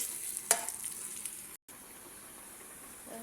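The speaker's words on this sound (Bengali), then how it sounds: "আমার আলু রসুন ভাজা হয়ে গেছে" Potatoes and garlic sizzle softly in a pan with a steady low hiss, a sharp scrape or clink near the start and a brief dropout midway.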